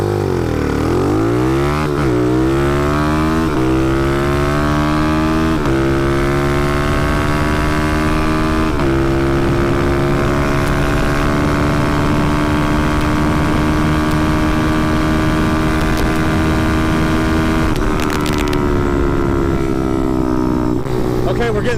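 Small carbureted motorcycle accelerating hard at full throttle, engine note rising and dropping with each gear change, several shifts and a long high-revving pull, loud and close throughout.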